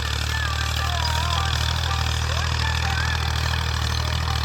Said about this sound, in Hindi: भाई साहब जो है वो फुल मगन होकर ट्रैक्टर चला रहे हैं